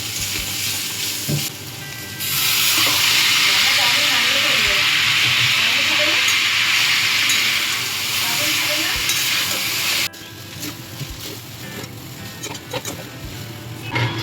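Chowmein noodles stir-fried in a pan after fried eggs, giving a loud, steady sizzle and hiss with scraping stirs that swells after a couple of seconds and eases somewhat near the end.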